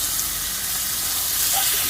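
The last three slices of bacon fry in a pan with a steady, dense hiss that sounds close and fairly loud, running without interruption and with no voices.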